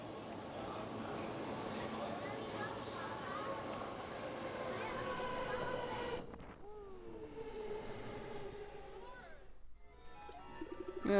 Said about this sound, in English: just waiting for a train to come along.